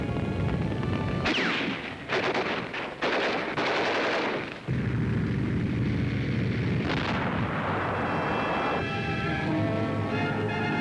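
Newsreel soundtrack of a 1945 beach landing at Balikpapan, with loud bursts of machine-gun fire followed by heavy mortar blasts and a rumbling, continuous barrage of battle noise.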